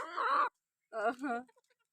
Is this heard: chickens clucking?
yes